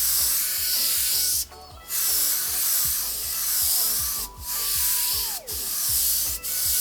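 Iwata HP-CH airbrush spraying Payne's Gray paint in light strokes, a close, steady hiss broken by a few short pauses, with a faint rhythmic ticking of the compressor beneath.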